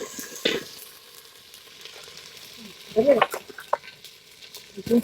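Ginger paste fries in a pan for a village-style chicken curry, a low steady sizzle under faint background speech, with scraping stirs near the start and clustered utensil clatter around the third and fifth seconds.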